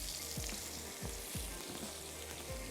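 Carrots and cabbage stir-frying over a high flame, with a continuous loud sizzle and several soft, repeated stirring thumps in a loose rhythm.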